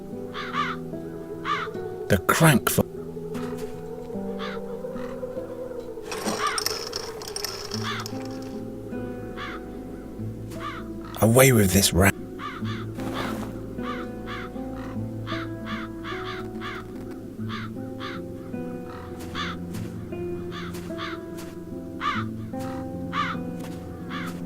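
Crows caw repeatedly throughout a scene in The Dark Eye: Chains of Satinav, sharp calls recurring in quick bursts over a steady game music bed, with a voice speaking briefly and a few louder thumps in between.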